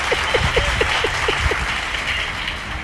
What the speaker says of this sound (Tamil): புரிஞ்ச மட்டும் கைத்தட்டு